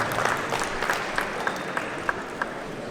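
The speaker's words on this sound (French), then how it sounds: "vous avez raison de les applaudir" Audience applause at a car club prize ceremony, a soft, steady patter of clapping from a crowd with a few sharper claps standing out rhythmically, fairly distant and even throughout.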